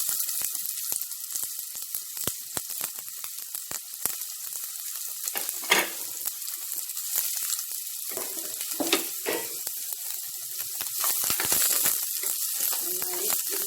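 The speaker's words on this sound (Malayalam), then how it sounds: "ഓയിൽ ചൂടായി വരുമ്പോൾ അതിലേക്ക് നമ്മൾ നേരത്തെ നുറുക്കി തയ്യാറാക്കി വെച്ചിരിക്കുന്ന ഉള്ളി" Steady hot-oil sizzling of onions frying, with crackles and occasional scraping from stirring, close and continuous throughout.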